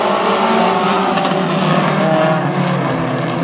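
Hobby Stock race cars take the green flag for a heat race at Granite City Speedway, a loud, steady roar of several engines that holds near and dense for the whole stretch.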